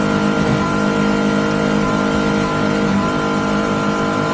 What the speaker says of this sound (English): Just hitting the rev limiter.